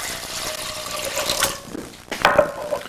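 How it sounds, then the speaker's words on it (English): A short pour of orange juice splashing into a pot of vegetables, rising then easing off, followed by a brief louder gush near the end. "A big splash of orange juice."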